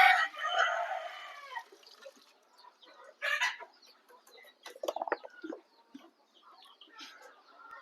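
Chickens clucking and calling in a quiet poultry shed in summer, a burst of busy clucks at first, then scattered short squawks and chirps spaced apart at moderate distance, no talk.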